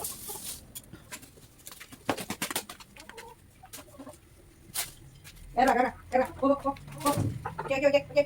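A hen clucks in short, repeated bursts close by in a homestead yard, following quieter background noises and talk.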